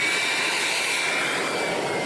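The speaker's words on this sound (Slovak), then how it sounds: "Je tam klasická turbína" Turbine engine of a model jet fighter aircraft gives a steady, loud broadband roar with a thin high whine, continuous throughout and heard alone.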